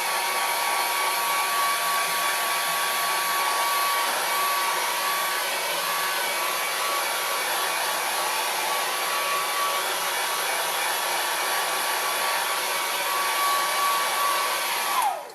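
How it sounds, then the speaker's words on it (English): A hair dryer blows steadily on drying tempera paint, a loud and even close whir that holds without a break for about fifteen seconds before cutting off at the end, with no talk. "just blow dry this."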